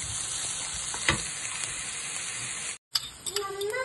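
Sliced onion fries in a pan with a steady sizzle and hiss, punctuated by a few stirring scrapes and a brief drop-out before the frying picks up again.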